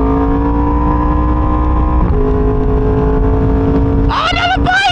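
A motorcycle's engine roars loud and close at speed on a highway while racing a Mustang, holding a steady drone before sharp revving bursts near the end; someone talks over it.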